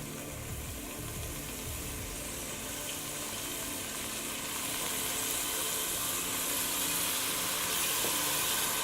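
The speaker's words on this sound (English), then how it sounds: "we're going to add the beef and cook for about a minute" Beef hitting olive oil in a hot pan at home, a steady broadband sizzle that thickens slightly over time, continuous and close with no talking.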